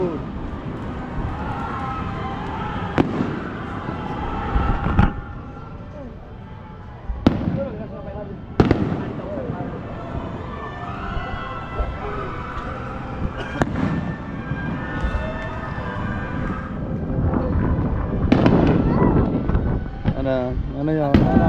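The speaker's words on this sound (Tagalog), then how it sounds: "Oh. fireworks." Fireworks bursting at an Enchanted Kingdom theme park, a string of sharp loud bangs spread over the stretch amid crowd noise, with excited voices talking and shouting throughout.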